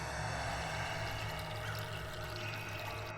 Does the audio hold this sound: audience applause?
no